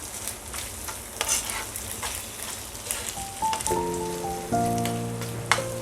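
A spoon stirs vinegar into schezwan chutney in a hot pan, a close, steady sizzle with scraping strokes. A few sustained musical tones join near the end.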